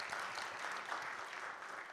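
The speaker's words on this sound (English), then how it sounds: "Oh, you can clap." Congregation applauding inside a church during a Hanging of the Green service, a steady, moderately loud wash of clapping hands that continues throughout without pause.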